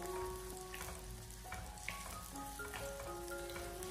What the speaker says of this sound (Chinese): 油热以后再把切好的姜葱蒜给它放进来，开小火给它翻炒一下